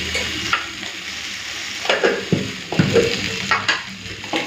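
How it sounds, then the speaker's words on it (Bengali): Okra fries in a pan with a steady sizzle, broken by several louder scrapes and clatters of stirring, close by and with no talking. "ঢেঁড়সটা ভাজা ভাজা হয়ে এসছে এখন নামানোর আগে দুটো শুকনো লঙ্কা দিচ্ছি"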